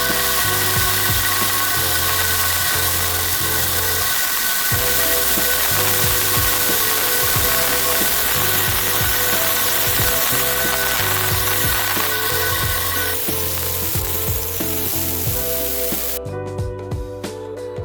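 Portable CNC GMAW welding prototype running, a continuous loud electrical buzz and crackle with a steady machine hum and tonal motor drone underneath, cutting off abruptly near the end.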